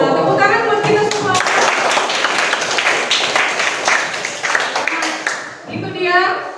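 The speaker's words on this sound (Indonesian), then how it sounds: "Tepuk tangan buat kita semua." Students clap together in an Indonesian language classroom, a dense burst of hand claps that swells and fades in the middle, with a voice speaking before and after it.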